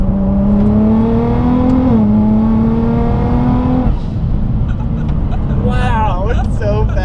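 Rocket Bunny Nissan GT-R accelerating hard, a loud rising engine note climbing steadily, dropping with a quick gear shift near two seconds, then climbing again before fading into broadband road roar; voices react toward the end.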